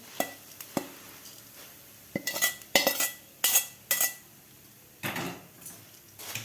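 A spoon stirs hot fried spice masala into puffed rice for crispy garlic bhadang chivda. Irregular metallic scrapes and clinks against a pot come in short bursts and pauses, close by and without speech.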